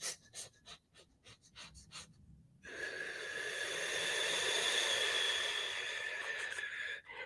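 A person takes a few short, choppy breaths, then one long, deep, airy breath that sustains for several seconds, close and clear with no speech.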